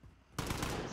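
Semi-automatic gunfire in Call of Duty Modern Warfare: a sudden loud burst of shots erupts after a quiet moment and keeps going as a sustained crackle of gunfire to the end.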